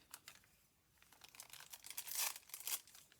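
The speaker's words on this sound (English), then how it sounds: "One thing I like about the tracing paper is I love the sound of it" Coffee-stained tracing paper handled and crinkled up close, with irregular bursts of crisp rustling that grow louder and busier toward the end.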